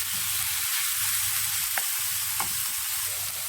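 Chicken seasoned with salt, spices and oil frying in a pan, a steady, loud hissing sizzle with faint pops, continuous throughout with no talk.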